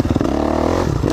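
A motocross motorcycle off the throttle under engine braking on a smooth track, a close, loud, steady rumbling engine note with clattery chassis noise through the whole short stretch.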